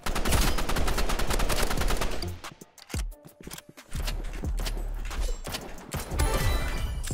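Rapid gunfire in the Roblox game Rivals, loud dense bursts of shots with a brief lull in the middle before firing resumes.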